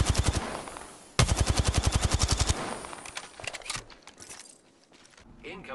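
Automatic gunfire rings out in Apex Legends, loud rapid bursts of evenly spaced shots, a brief pause, then a longer sustained volley before trailing off into scattered distant shots and clatter.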